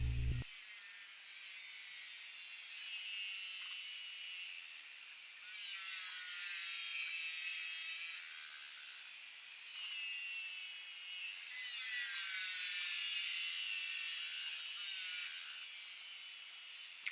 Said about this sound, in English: Those are cicadas you can hear in the background,